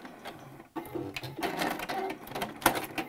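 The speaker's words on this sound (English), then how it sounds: "give it another little back stitch." Sewing machine back stitching a fabric jewelry pouch: short bursts of rapid mechanical whirring and clicking, close and moderately quiet, starting and stopping over a few seconds.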